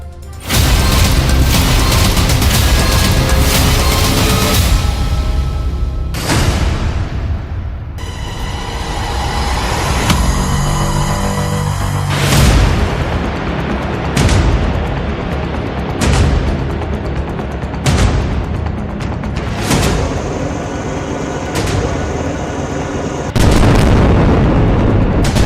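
Air strikes in Gaza: a sequence of heavy, booming explosions and rumbling blasts over roughly twenty-five seconds, loud and near, with irregular spacing and sustained roaring between impacts.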